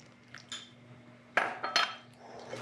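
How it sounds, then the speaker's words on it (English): Homemade buttermilk is stirred into flour in a bowl for soda bread, with a few scattered clinks and scrapes of a utensil against the bowl over a quiet background. "We're gonna stir in the buttermilk."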